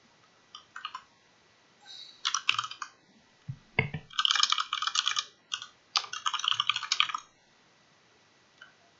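Typing on a computer keyboard, bursts of quick close clicks in irregular clusters separated by short pauses, fairly faint against a quiet background.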